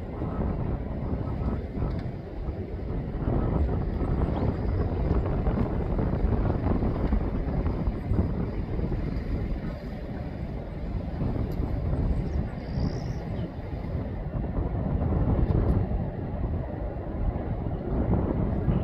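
Allegiant Airbus airliner on final approach to land, a steady broad roar muffled by wind buffeting the microphone, continuous and moderately distant throughout.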